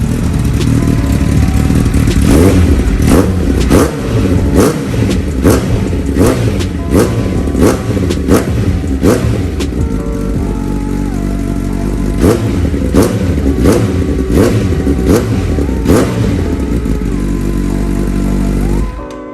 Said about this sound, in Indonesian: Emang suara 1000 cc itu emang kenceng kayak gitu cuy